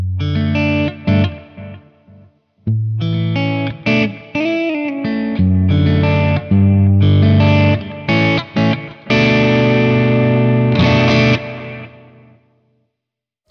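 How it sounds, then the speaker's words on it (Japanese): Electric guitar played through a Hotone Ampero II Stage multi-effects processor with a Soldano amp model and spatial effects inserted after it, loud sustained chords and single notes washed in chorus and reverb, pausing briefly before ringing out. "音作りに戻ってアンプの後ろに空間系エフェクトをインサートしてみましょう。"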